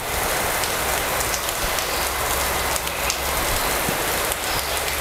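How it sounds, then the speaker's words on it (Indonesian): Artificial rain-like water sprinkles steadily down inside an aviary, a dense, continuous patter on surfaces that stays loud and even throughout with no voices over it. "Ini kehujanan beneran, guys."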